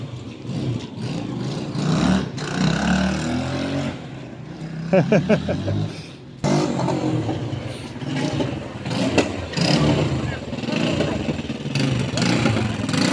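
A homemade IZh Enduro motorcycle engine runs during a test drive, its mid-pitched drone rising and falling at moderate distance amid wind and outdoor noise.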